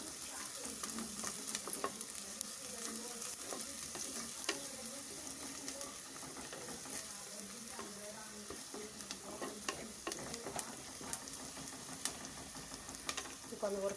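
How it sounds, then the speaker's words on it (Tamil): Ginger garlic paste frying in oil for a dry roast masala chicken, a soft continuous sizzle with frequent scraping and clicking stirs of a spoon in the pan, close and fairly quiet, no talking. "இது மேலே இஞ்சி பூண்டு பேஸ்ட் போட்டுக்கணும். அதுவும் நல்லா பச்சை வாசனை போகிற வரைக்கும் வதக்கணும் எண்ணெயில்."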